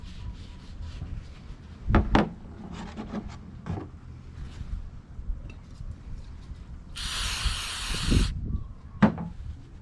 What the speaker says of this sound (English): Clean them with some brake clean.